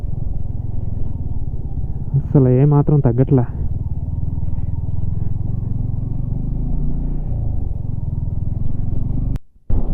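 A motorcycle rumbles steadily along an off-road mountain track between Turtuk and Shyok, its engine droning low and continuous while a rider talks briefly over it.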